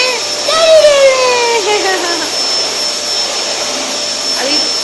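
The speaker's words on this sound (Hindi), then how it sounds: "बस एक ही वैक्यूम क्लीनर हमें अच्छे कंडीशन में सेकंड हैंड मिल गया, तो हमने सेकंड हैंड वैक्यूम क्लीनर खरीदा" A second-hand vacuum cleaner in good condition runs close and loud, with a steady high whine and drone throughout. A voice or child's cry rises and falls over the motor noise early on.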